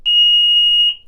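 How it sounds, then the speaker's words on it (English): A sump pump's high water alarm gives one loud, piercing electronic beep, about a second long and steady, shrill like a smoke detector, with nothing else around it. "if you have an alarm on your sub pump, it will sound something like this, and it is loud."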